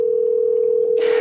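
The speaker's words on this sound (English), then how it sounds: "Let's see if Justin answers" A steady, unbroken telephone dial tone hums loud and close while a call is being placed, with a brief burst of hiss cutting in right at the end.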